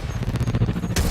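Rapid bursts of gunfire aimed at the player in the Quantum Break video game, a dense, continuous volley of close shots that swells louder toward the end.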